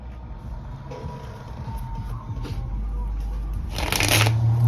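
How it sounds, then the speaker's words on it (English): A deck of cards being shuffled, its riffling rattle running through the clip and building to a louder, denser burst of flicking near the end, with no talking. "Let me pull some cards from this deck."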